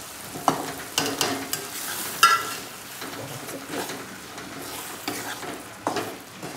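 Wheat flour being stirred and roasted in a pan for ukadpendi, with soft sizzling and scraping strokes repeating at an uneven pace close up, no talking.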